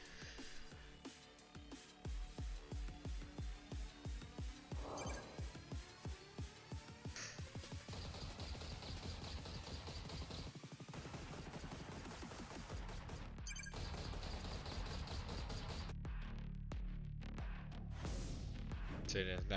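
Guardian rifle fire in Valorant, a run of evenly spaced single shots in rapid rhythm, crisp and close, followed by denser continuous firing that builds in loudness toward the end.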